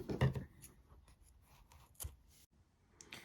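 Scissors snip through a yarn tail on a crocheted amigurumi penguin, giving a few quiet, sharp close-up cuts with soft rustling between them.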